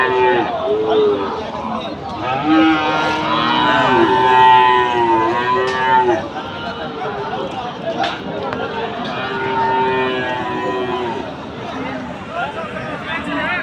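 Pakra-type Sahiwal cattle moo repeatedly at a rain-hit rural cattle market in Aftabganj, loud drawn-out calls close by, overlapping with people talking in the background.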